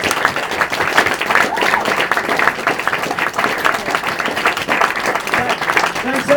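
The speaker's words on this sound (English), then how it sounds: "Can we have a big round of applause," A large conference audience breaks into a sustained round of applause, dense and steady throughout, with a few voices audible through the clapping.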